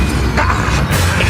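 Stupefy stunning spell fired in the Hogwarts Legacy video game, heard as two quick booming bursts about half a second apart over a continuous low rumble of battle sound.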